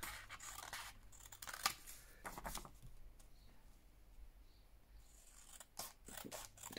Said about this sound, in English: I'm just going to cut it up the edge there like that.